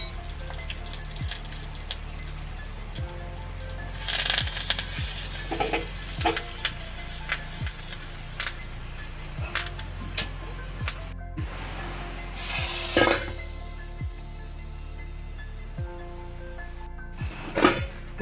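Urad dal, hing and garlic sizzle in hot oil in a pan for a Mangalorean pineapple sasam tempering, a steady frying hiss broken by periodic stirring scrapes and sharper bursts of spitting as ingredients hit the oil.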